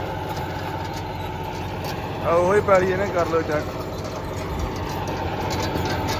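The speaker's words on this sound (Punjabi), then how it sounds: "ਇਹਦੇ ਚ ਵੇਟ ਦਾ ਵਧੀਆ ਚੱਲਦਾ ਟਰੈਕਟਰ ਹੈ" A tractor engine runs steadily in a farm field as a continuous low, droning hum, with someone talking over it partway through.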